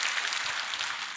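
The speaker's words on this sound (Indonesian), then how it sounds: "Beri tepuk tangan buat orang Indonesia." A sermon audience in Indonesia applauds with a faint, distant wash of clapping that stays even and brief.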